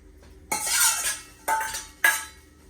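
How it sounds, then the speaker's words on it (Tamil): Three scraping strokes of a spoon through pongal in a pot after fried cashews are added, each a short swish against the metal, close and fairly quiet. "இப்போ வந்து இந்த பொரிச்சு வச்சிருக்கிற இந்த முந்திரியையும் போட்டுக்கொள்வோம்."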